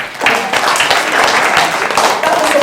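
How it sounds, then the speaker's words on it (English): A group claps for a young lady, a short burst of close, lively applause that continues steadily to the end. "Round of applause for that young lady"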